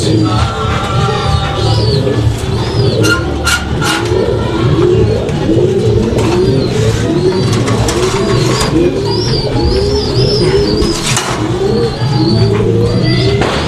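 A pair of silver barless fantail pigeons coos in steady, overlapping rounds, loud and close, with other birds chirping in the background and no talking.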